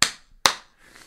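Two sharp hand claps about half a second apart, crisp and close, each decaying quickly into quiet, with no voices.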